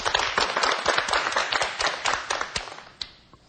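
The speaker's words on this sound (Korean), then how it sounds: "수고하신 분들 박수를 한번 주세요" Applause from a classroom audience for two performers about to act out a grandfather-and-grandson dialogue, a burst of dense hand claps fading out over a few seconds.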